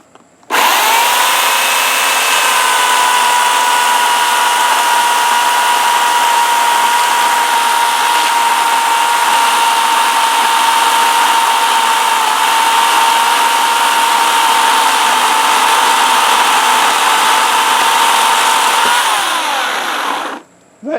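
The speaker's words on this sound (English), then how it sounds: "I'm going to cut a 4-inch section here, and we'll see how that one goes." A Harbor Freight Portland 14-inch electric chainsaw cuts a 4-inch section of green pecan wood, a loud steady motor whine held at constant pitch for about twenty seconds before it winds down and stops.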